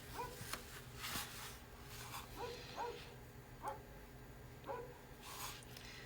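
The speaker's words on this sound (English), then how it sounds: "it's a bark fest today." A dog named Grizz barks repeatedly in short, spaced yips and woofs at moderate distance, with a few whimpering notes between them, on a snowy day over a low steady background hum.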